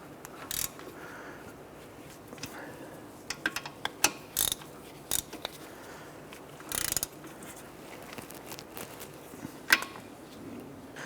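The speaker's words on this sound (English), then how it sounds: "Let's grab our ratchet and our socket. Let's go ahead and snug those in." A ratchet and socket snug the brake caliper bolts on a 2006-2013 Chevrolet Impala, sounding as short bursts of quick metallic clicking separated by pauses, fairly faint against a quiet background.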